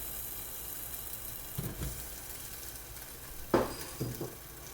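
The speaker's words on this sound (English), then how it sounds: "You can hear it sizzling." Hot french fries fresh from an air fryer give a soft, steady hiss of sizzling. A few close clunks from the tray and basket being handled break through it.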